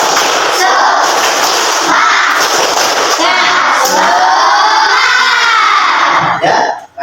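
A group of people in a classroom lesson doing a loud rhythmic spirit clap, tepuk semangat, close and energetic, with shouting and cheering voices mixed into the clapping until it stops abruptly at the end.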